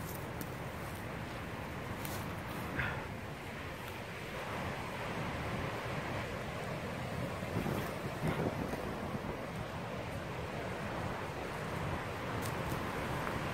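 Steady wind blows across the microphone in a soft, continuous low rumble on a disc golf course at Yyteri, fairly faint and unbroken for the whole stretch.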